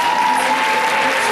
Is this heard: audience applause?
yes